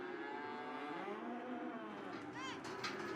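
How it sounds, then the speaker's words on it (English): Cattle moo repeatedly, low and drawn out, amid a steady crowded din inside a livestock auction barn filled to capacity during a severe drought, with a higher bawl rising near the end. "They can't take any more cattle."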